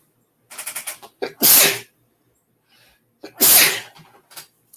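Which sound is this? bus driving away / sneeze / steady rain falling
sneeze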